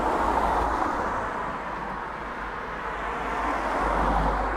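Cars passing by on a street, a continuous broadband roar of tires and engines that swells near the start and end as vehicles go by close, with no talking.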